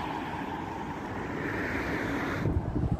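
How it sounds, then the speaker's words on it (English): Outdoors near a castle in Stirling, cold wind buffets the microphone in a constant loud rumble that swells slightly and thumps in gusts near the end. "it's windy."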